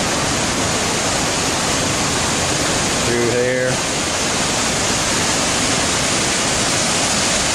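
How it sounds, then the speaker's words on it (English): A waterfall in the Columbia River Gorge cascades down and splashes out on rocks, a steady loud broadband roar filling the whole clip, with a brief spoken phrase heard over it partway through. "you can see the falls coming out there. It kind of cascades down"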